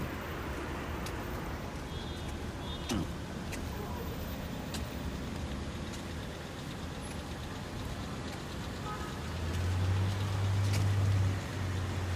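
Cars passing on a city street in the evening, a continuous low traffic hum with faint engine noise and a louder vehicle rumbling by near the end, heard from the sidewalk with some talking over it.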